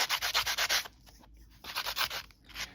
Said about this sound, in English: And so now I'm going to sand this side just a little too.